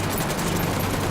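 Continuous, dense gunfire from the video game Ghost Recon Wildlands roars steadily without a break, like rapid automatic shots blurred together, loud and close with no voices.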